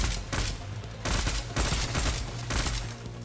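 Rapid bursts of AKM rifle fire in the video game Decaying Winter, loud and close, several volleys in quick succession with brief gaps.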